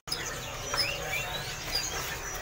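Male cucak sino songbirds at a kiosk in Pasar Pramuka bird market give faint, scattered chirps and thin whistles over a steady low murmur of market noise.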